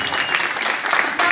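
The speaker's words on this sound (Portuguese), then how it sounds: "Uma salva de palmas pra esse movimento, pra essa festa bacana, pra todo mundo que tá aqui." A party crowd applauds, a brief, loud, dense burst of many hands clapping close by, with voices mixed in.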